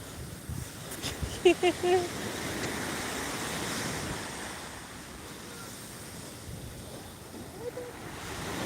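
Large ocean waves surge and wash in a broad, steady roar, with wind noise and a few brief voices early on.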